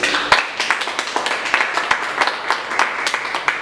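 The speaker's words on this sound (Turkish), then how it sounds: "alkışlıyoruz kendisini" An audience at a disability association's saz course event claps in a steady, dense round of applause, close and continuous for several seconds.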